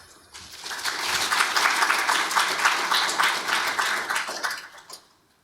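Lecture audience applauding to welcome the speaker to a fellowship presentation on postwar migrant protest, a steady dense wash of clapping from many hands that swells quickly, holds for about four seconds, then fades out.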